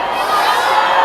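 A large crowd at a political rally in Daegu roars and cheers in a continuous dense wash of voices, loud and close, with no break across the brief moment.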